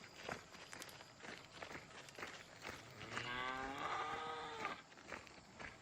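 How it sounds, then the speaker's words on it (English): A cow on a farm gives one drawn-out moo in the middle, set against the shuffling and footsteps of livestock moving over the ground nearby. "That's my cow on that side."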